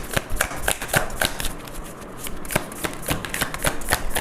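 A deck of tarot cards shuffled close up, producing a rapid, continuous flutter of riffling slaps for several seconds with no voice.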